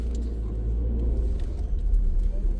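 A car reverses slowly along a road beside the Elbląg River, its engine a low, steady rumble heard from inside the vehicle, with faint ticks and road noise over it.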